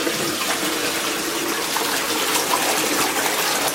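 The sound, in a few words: Saniflo macerator pump pumping out water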